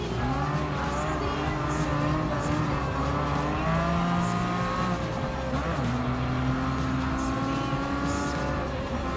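Race car engines in Gran Turismo Sport scream and rise through the gears, with shifting pitch, tire squeal and cars passing, all loud and continuous throughout.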